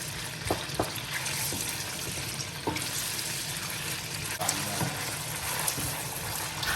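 Chopped onions frying in oil in a big pot for a goat meat tomato stew, a steady close sizzle with occasional stirring knocks and scrapes, no talk.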